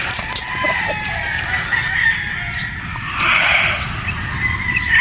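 A Sweater Boston gamefowl rooster crows on a game farm in Batangas, with a loud, close crow over steady background clucking and farmyard noise.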